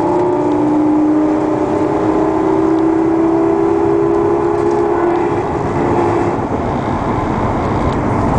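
A 2001 Chevy box truck with an aluminum ramp drives along with a steady, loud drivetrain whine, a sustained tone over constant road rumble that eases off near the end.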